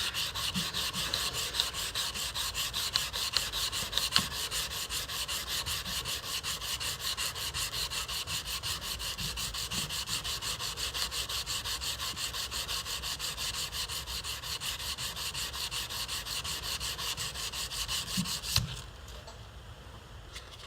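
Steel knife blade being hand sanded with 220 grit abrasive paper, a continuous rapid back-and-forth rasping scrub at steady level, close up, stopping abruptly near the end, with no talking.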